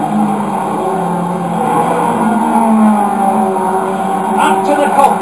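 1980s British touring cars racing in a championship event, a sustained loud engine drone with shifting pitch as cars run together, heard under continuous commentary.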